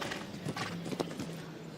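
A show-jumping horse in an international Nations Cup competition sends up a few quick hoof thuds on the arena surface, brief and moderately close over steady background ambience.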